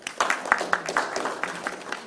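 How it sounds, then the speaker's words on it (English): Applause at the Agneepath film press conference in Dubai: a short burst of scattered hand clapping from an audience, with a few distinct claps standing out over the crowd. "A big round of applause also to the organizers of the event"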